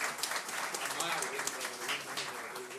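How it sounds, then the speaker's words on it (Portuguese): Applause in a legislative chamber during a special plenary lecture session, a steady wash of clapping from the audience with a voice speaking over it throughout. "Uma salva de palmas para o Magno Mori."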